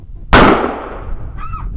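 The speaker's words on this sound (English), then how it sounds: "this is going to be a little bit bigger boom since we put twice the powder in it" A homemade .50 caliber breech plug fires with a double powder charge, making a single loud, sharp outdoor boom followed by a long decaying rumble.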